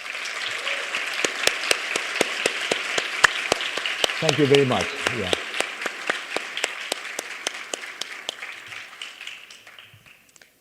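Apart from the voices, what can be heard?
audience applause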